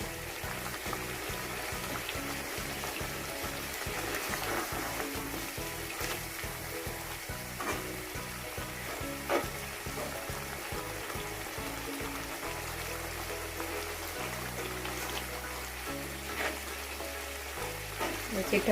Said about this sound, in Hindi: अभी तो हम सिर्फ टमाटरों का पानी ही ड्राई कर रहे हैं।